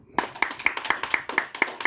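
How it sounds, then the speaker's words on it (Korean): A church congregation claps in a steady, even rhythm, about eight crisp beats close by, with a faint voice underneath at the start. "아유 얼마나 고생했다. 우리 박수."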